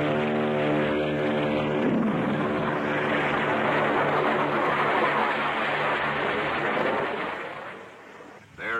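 A propeller plane on skis roars through its takeoff run with two JATO jet-assisted rocket bottles adding a loud, broad, steady blast that holds for several seconds before easing off near the end.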